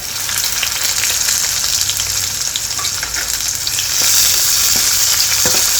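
Chopped onion hits garlic frying in a pan, giving a steady, close, dense sizzle that swells louder near the end as the pan crackles, with no talking.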